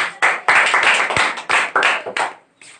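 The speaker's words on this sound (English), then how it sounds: "big round of applause for our sir" Classroom audience clapping for a teacher at a spoken English centre's New Year's Eve event, a few close hands beating in uneven bursts that pause briefly and restart.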